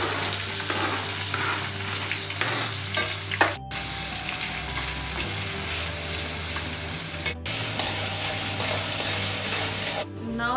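Chopped onions fry with cumin seeds in hot oil for a Punjabi rajma, a steady loud sizzle with stirring scrapes and a low hum beneath, broken by a few brief dropouts.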